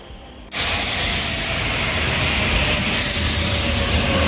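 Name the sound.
metro train in Rome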